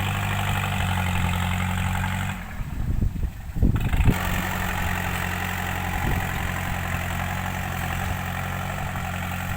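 A blue tractor engine idles steadily and close by at a dirt-dumping site, with a short dip and some clunking partway through before the steady drone resumes.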